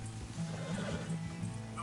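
A horse neighs loudly and close in the video game Red Dead Redemption 2, a single drawn-out whinny with hoof clip-clop and trail ambience beneath it.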